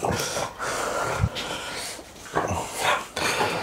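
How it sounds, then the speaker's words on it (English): A rescue dog, big-eared, snorts and gives short muffled huffs and whimpering breaths close to the microphone in a garage-style workshop, a few uneven bursts over a few seconds. "you're just going to stand and bark at me"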